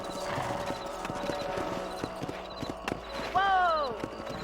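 Rhythmic clip-clop of horse hooves with background sounds in the video game Red Dead Redemption, then a horse whinnies loudly near the end.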